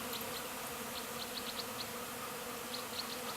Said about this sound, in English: That's just coated in bees. It's a large swarm.